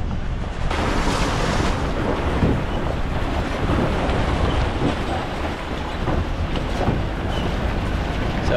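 A car towing a caravan splashes through a river crossing on the Bloomfield Track, a loud continuous rush of water and engine noise that lasts throughout with no clear speech.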